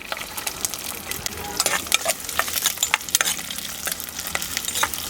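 Chopped shallots hit hot oil with curry leaves in a pan for a garlic-pepper kuzhambu, sizzling loudly and crackling with sharp pops while a spoon stirs and scrapes through them.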